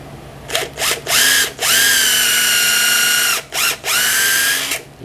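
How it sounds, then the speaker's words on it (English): A power drill drives a bit into T1-11 siding during replacement with PVC, whirring in several loud, steady bursts of about a second or two each, with short pauses and brief revving between them. "All right, so I got a drill bit in there."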